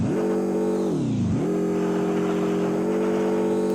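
A fast car's engine revs in a video game, a loud droning tone that dips sharply, climbs back and then holds steady at high speed, with no talking.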